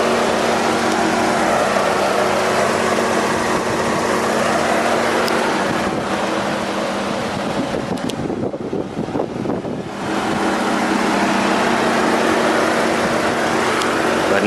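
A 2017 Chevrolet Traverse Premier with a GM 3.6-liter V6 idles under an open hood, a steady close engine hum and hiss with faint mechanical ticking, briefly disturbed midway by handling noise.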